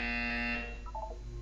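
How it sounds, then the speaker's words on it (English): Electronic buzzer tone in the video game Portal 2, a steady sustained buzz lasting about half a second, followed by faint tonal blips, close and alone without talk. "You will hear a buzzer."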